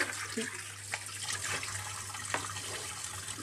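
Water runs steadily into bottles being filled at home, a continuous close rushing splash with slight gurgling shifts and a low hum underneath.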